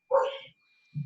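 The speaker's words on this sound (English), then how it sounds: "And I apologize for the dog barking." A single dog barks once indoors, a short sharp yap followed by silence and then a low muffled thump or start of another sound.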